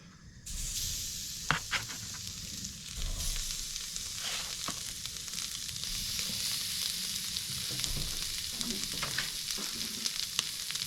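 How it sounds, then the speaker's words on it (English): Meat sears on an outdoor grill at a cabin, a continuous soft hiss and crackle with scattered pops and sharp spits, steady and fairly close throughout. "Let's sear these up for a couple minutes"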